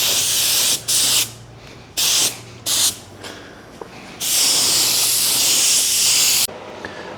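Small-compressor paint spray gun laying a coat of paint onto a car panel, sounding as loud, steady hissing bursts: several short sprays, then one long continuous pass, with brief quieter gaps between.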